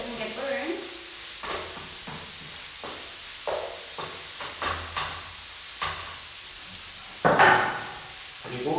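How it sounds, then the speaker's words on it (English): Pork and vegetables for jeyuk fry in a pan while being stirred: a low sizzle runs under intermittent scraping and knocking strokes from a utensil, with one louder clatter near the end. Someone speaks briefly. "It is important to keep stirring as to the meat doesn't get burned."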